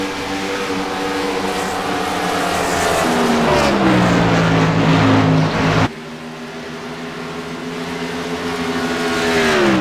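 An ICAR Cup Series stock car roars down the front stretch at Texas Motor Speedway at night, its engine a loud, steady high-pitched drone with a falling pitch as it passes, followed by another car's engine sweeping by.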